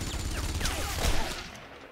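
Gunfire in the World War II shooter Enemy Front, a run of overlapping shots peaking near the middle of a dense, loud battle mix, with no talking over it.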